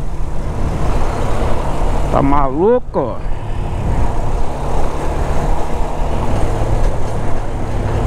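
Cars and trucks idle and creep through a jam more than 20 km long, heard from a motorcycle as a constant loud rumble, with a short spoken exclamation partway through.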